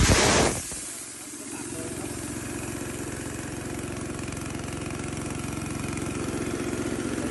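A Honda GX160 engine powering a two-cylinder field air compressor settles into a steady, close idle with a rhythmic mechanical chug after a loud burst at the start.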